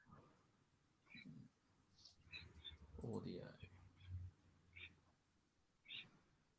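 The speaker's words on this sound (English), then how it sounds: "You might hear some noises from my birds today because they're still awake." Faint, scattered bird chirps and squawks from small pet birds in a quiet room, with soft voices talking in between.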